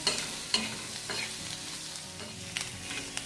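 Onion browning in an iron pan for a village-style soybean chutney, a steady broadband sizzle with scraping stir strokes and occasional crackles, close and moderately loud, no talking.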